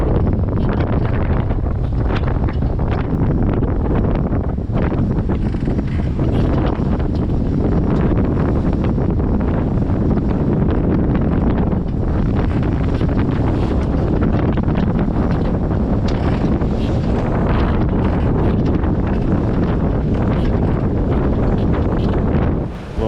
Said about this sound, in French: maintenant le vent est contre le courant et ça lève souvent de la mer